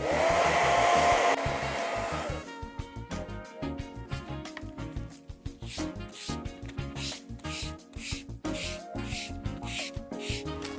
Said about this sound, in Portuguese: Não vamos precisar esperar secar porque ele não tem cera, então eu posso secar.